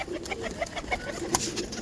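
A pair of Dhanyabala malbayi pigeons from Punjab cooing in short repeated bursts, near and moderately loud over a busy noisy background.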